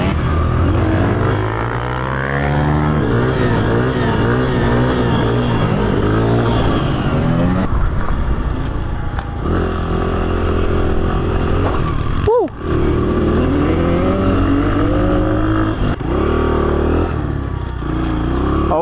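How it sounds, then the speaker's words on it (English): Motocross bike engines rev and rise in pitch as riders pull floor wheelies, loud and close, with repeated throttle swells and a brief cut around the middle, voices faint underneath. "Tommy and Max doing the nice floor wheelies"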